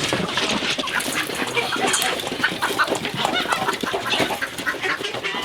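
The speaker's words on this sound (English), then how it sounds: "We feed all the hens and the peacocks and the turkeys, and some ducks get in here." Hens cluck steadily in a farmyard at morning feeding time, where peacocks, turkeys and ducks also gather; a dense, continuous close-up chatter of the flock with no talking.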